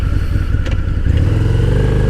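Harley-Davidson V-Rod motorcycle engine while riding, a loud, steady low rumble close up that rises slightly in pitch partway through, with wind and road noise and no talk.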